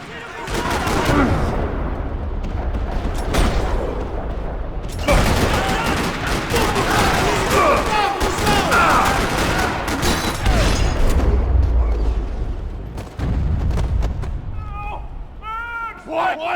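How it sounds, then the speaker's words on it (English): Rapid bursts of gunfire in Max Payne 3 rattle almost continuously, loud and close, in a parking lot, with heavy thuds and a voice speaking briefly near the end. "Another parking lot rattling with gunfire."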